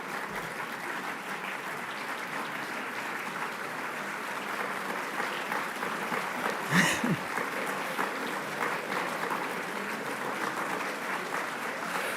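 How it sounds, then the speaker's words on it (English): Sustained audience clapping after a political talk, steady and even throughout, with a brief louder burst of a cheer or shout partway through. "I'm glad you're clapping"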